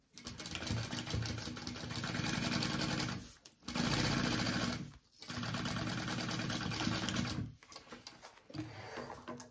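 Sewing machine basting a lined bag flap onto the top of a bag piece, running in three long steady bursts with brief pauses between, close and fairly loud, with no talk.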